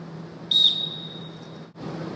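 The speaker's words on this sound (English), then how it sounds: "when I blow a whistle" A coach blows one sustained, fairly loud whistle blast of about a second during a ball-passing drill, over a quiet background hum.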